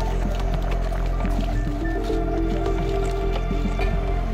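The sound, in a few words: mixing yogurt and ginger-garlic paste marinade with capsicum and onion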